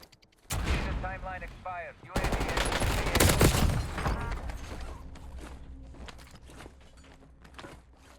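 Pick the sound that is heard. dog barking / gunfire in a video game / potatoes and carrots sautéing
gunfire in a video game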